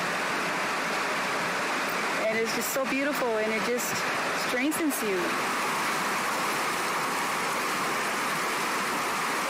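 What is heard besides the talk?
river water flowing, off Rancheria Road near Bakersfield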